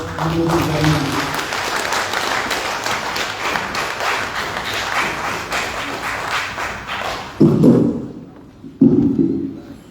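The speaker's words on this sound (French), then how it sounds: "mesdames et messieurs, applaudissez" Audience applause at a World Cities Day ceremony in a palace hall, a dense spread of clapping that runs several seconds before fading, followed by a few thumps and a voice speaking.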